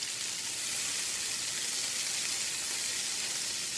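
Gnocchi fry in a nonstick pan with a steady, even sizzle that holds close and constant throughout, with no voices.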